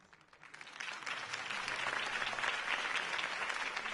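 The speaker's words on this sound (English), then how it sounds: "If only Mr. Wayne, my campaign's largest backer, could have heard that applause" A crowd at a Harvey Dent campaign speech in a Batman video game bursts into applause that swells from quiet to a sustained, dense roar of clapping.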